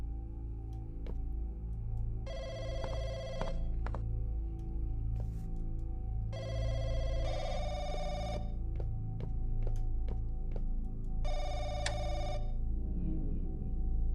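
A public telephone in a video game rings three times, each a bright bell-like trill of about a second separated by pauses, over a constant low rumble and scattered clicks.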